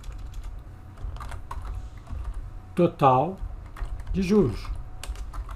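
Typing a cell name on a computer keyboard, a run of quick soft key clicks spread across the clip, with someone speaking briefly midway over the tapping.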